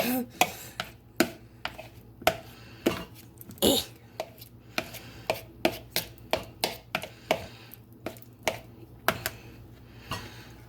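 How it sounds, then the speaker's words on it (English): Chopping of ingredients for a pumpkin pie in a bowl: a string of sharp, evenly spaced knocks, close and crisp, over a quiet background. "we're gonna hurry and chop that up right now. Okay, so we're just gonna do it in the bowl"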